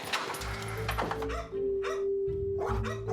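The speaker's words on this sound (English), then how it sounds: "Some of the dogs were vicious." Several dogs bark in quick, loud, overlapping bursts at close range, some deep and some yappy, with brief gaps between volleys.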